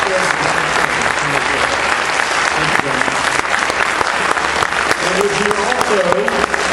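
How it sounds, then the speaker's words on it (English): Audience applause fills a 2012 sheriff debate hall, a steady dense clatter of many hands running the whole time while a voice speaks over it. "Let's give a round of applause for our"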